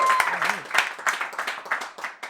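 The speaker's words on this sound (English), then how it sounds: "Who's here from Queens? Clap it up." A comedy club audience claps during a live stand-up set in Queens, with a short burst of scattered, uneven handclaps from a modest crowd alongside a brief voice, close and lively.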